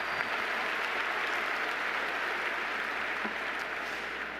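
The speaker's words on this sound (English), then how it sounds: "thank you very much for applauding Habitat for Humanity" Steady, dense applause from a commencement ceremony audience fills the hall evenly for several seconds, close and continuous without letup.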